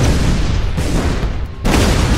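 An explosion from a Double Bounder shot in the artillery game Shellshock Live, sounding as a loud, dense rumbling boom that fills the whole stretch, with a brief dip before a second burst near the end.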